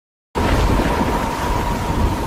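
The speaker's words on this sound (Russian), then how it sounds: "сейчас нас накроет буря с востока" Thunderstorm sound effect from an anime: a loud, continuous rumble with a rain-like hiss that starts abruptly after a brief silence and holds steady.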